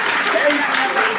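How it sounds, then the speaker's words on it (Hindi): An audience at a farewell event skit show clapping, a dense, continuous burst of applause heard close for a moment. "एक मरतबा फिर तालियां हो जाए।"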